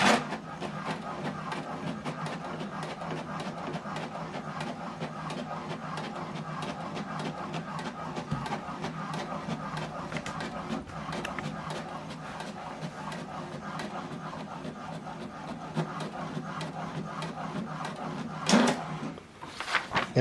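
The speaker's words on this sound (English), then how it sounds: "So this document now is printing." An HP Deskjet 2700e inkjet printer runs a print job, giving a steady mechanical whir with rapid repeated clicks and rattles of the carriage and paper feed, close up, ending in a brief louder clunk near the finish.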